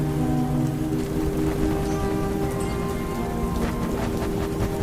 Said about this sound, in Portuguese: a chuva fica mais forte e o Fred tenta abrir mais vezes